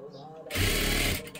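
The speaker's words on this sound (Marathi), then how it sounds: "आता इथे परत एकदा डबल शिलाई मारून घ्या." Sewing machine running a line of double stitching on a princess-style blouse, a steady close whirring burst of about a second after a quiet start.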